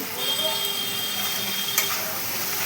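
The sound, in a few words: spice paste with turmeric and salt frying in a pan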